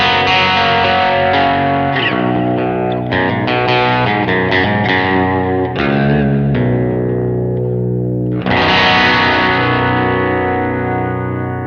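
Baritone guitar played through a Kemper amp with a clean tone and a 10-inch CTS speaker rings out in sustained chords and picked notes, loud and close, with no one speaking.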